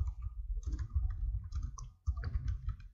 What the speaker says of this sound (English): So I am going to type, this is my first Notepad file